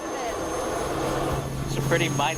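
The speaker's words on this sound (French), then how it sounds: "Il est impressionnant cet hélico." A helicopter drones steadily throughout with a constant engine whine and rotor rumble, fairly loud, while people speak over it toward the end.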